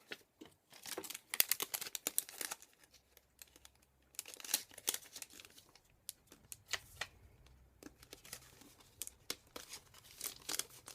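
Clear plastic packaging of clear rubber stamps crinkled and handled up close, with irregular crackles, rustles and sharp crumpling bursts that come and go over several seconds, fairly quiet and without speech.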